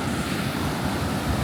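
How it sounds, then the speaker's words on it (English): Sea waves at a rocky shore in Bali splash and wash in a brief, steady rush of surf, mixed with wind buffeting the microphone. "the water here is coming in all the way up to the rocks here. It's splashed up a few times"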